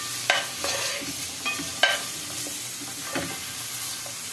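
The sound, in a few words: sheep offal fat melting and frying in a pan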